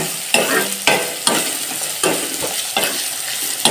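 Thutu kura curry fries in a pan in village-style home cooking while a spoon stirs it, giving regular scraping strokes about twice a second over a close, continuous sizzle.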